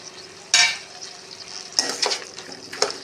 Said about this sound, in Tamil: இப்போ சுண்டக்காய் வதக்கினதையும் வரமிளகாயும் சேர்த்து ஒன்றாவே சேர்த்து எல்லாத்தையும் வதக்கலாம்